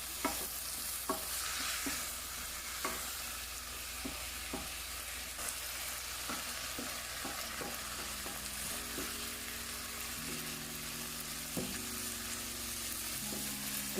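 Turmeric fries in hot oil for a Jamaican ital vegetable stew, a steady sizzle running throughout while a utensil stirs and scrapes the pan in irregular knocks, close and alone with no talking.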